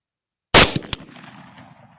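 A single 6.8 rifle shot fired at a hog during a hunt: one sudden, very loud crack close by, followed by a brief echo and a faint fading rumble across open ground.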